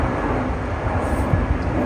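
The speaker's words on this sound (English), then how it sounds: "Planes keep flying." A fixed-wing airplane drones steadily overhead during an autumn stroll near a pond, a continuous low engine rumble that fills the whole moment without any talk.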